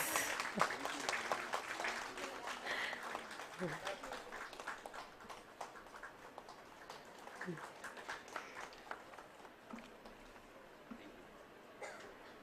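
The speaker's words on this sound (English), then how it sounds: "Give a round of applause." Audience applause at a national Ayurveda seminar, a broad wash of many hands clapping at moderate distance, continuing steadily and slowly thinning out over about twelve seconds.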